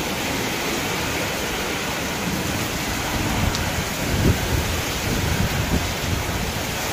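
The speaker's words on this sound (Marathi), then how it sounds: "इतका जोराचा पाऊस आहे की बोलायचं नाही" Heavy rain pours steadily and densely close by, a dull rumble of thunder swelling briefly in the middle of the downpour, no voices.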